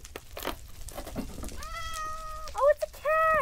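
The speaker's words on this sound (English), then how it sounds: "Oh, it's a cat!" A cat in the Minecraft video game meows several times in short tonal calls, preceded by clicking and shuffling gameplay sounds; the meows are clear and fairly loud.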